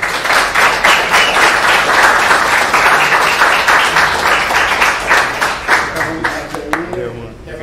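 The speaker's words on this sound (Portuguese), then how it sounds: "Recebam com fortes aplausos, Rodrigo Wolff." Strong audience applause welcoming a 2D artist onto the stage at a Brazilian creative event, dense and loud sustained clapping from a large crowd, tapering off toward the end.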